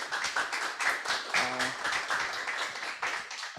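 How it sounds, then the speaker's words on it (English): Conference audience at a developer event in Porto claps after a talk, a dense patter of many hands that is moderately distant and steady throughout, with a brief tonal sound in the middle. "A lot of clapping here"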